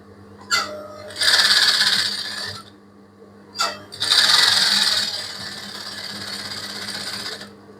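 A sewing machine stitches a kids' ball gown in two loud, close bursts of rapid whirring, each opened by a click and followed by a low steady hum.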